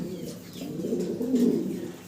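Pigeons coo nearby in soft, throaty, rolling calls, swelling slightly louder toward the end.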